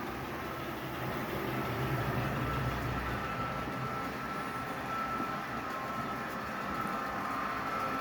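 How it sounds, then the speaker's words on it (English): Model coal train running on a model railroad layout, a faint steady rolling rumble of wheels on track with a continuous low hum, no voices. "Here comes our coal train crossing through XN"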